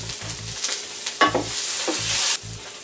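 Onions sizzle and crackle in a hot pan, with soft stirring scrapes and low thumps recurring through the short stretch, no talking.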